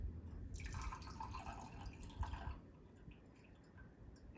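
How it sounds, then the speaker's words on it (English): Absinthe is poured over a sugar cube resting on an absinthe spoon above a glass, making a faint, close trickle and drip that fades after a couple of seconds, with no talking. "pour it over your sugar cube that's on your absinthe spoon over your glass"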